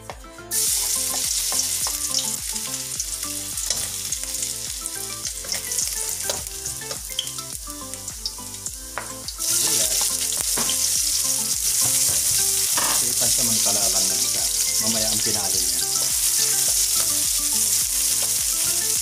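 Beef sizzles steadily in a little oil in a frying pan, a loud, continuous crackling hiss that grows slightly brighter partway through, with occasional stirring clatter and no talk.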